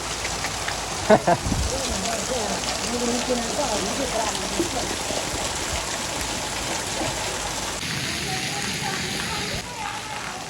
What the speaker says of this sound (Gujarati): અચાનક એટલો બધો વરસાદ આવી ગયો